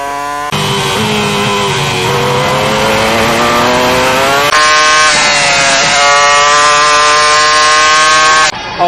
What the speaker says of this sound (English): Oh, straight back on the throttle, didn't he? Just gave it everything as it was leaping through the air.